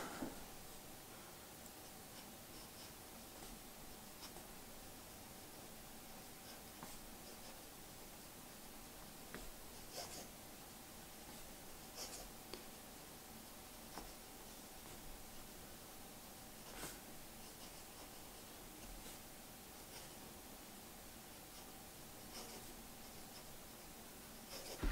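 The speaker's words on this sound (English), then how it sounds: "let's do a quick writing sample" A Jinhao 80 fountain pen with Parker Quink Black ink scratches faintly across paper, soft intermittent strokes over a quiet hiss, close and alone.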